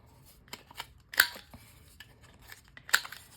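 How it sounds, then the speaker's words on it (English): Paper being cut with scissors and trimmed with a corner rounder for an art journal page, heard as a few quiet snips and clicks with two sharper crunchy cuts, close and sparse. "Also just cut them into regular shapes and use a corner rounder."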